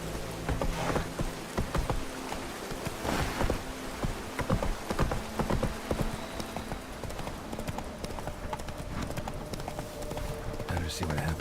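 Hooves of the horse Roach clop rapidly and steadily in a gallop through rain in The Witcher 3, with rainfall hissing underneath and a voice speaking over it.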